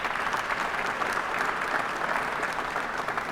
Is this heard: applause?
yes